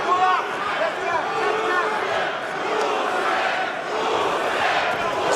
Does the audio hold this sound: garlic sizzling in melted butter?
no